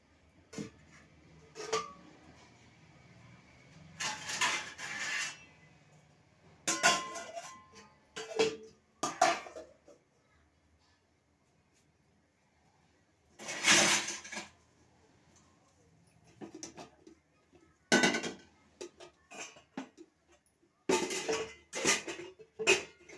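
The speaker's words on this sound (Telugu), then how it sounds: "ఈ వంకాయలు అయితే కట్ చేసుకుంటా." Knife taps and clatters on a board in bursts as eggplants are cut for a curry, with quiet pauses between the clusters of chopping and handling noises.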